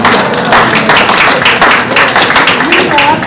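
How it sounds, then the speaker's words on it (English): A lunch-series audience gives a round of applause, steady dense clapping heard close and loud for a few seconds with a voice faintly underneath. "We'll give you a round of applause."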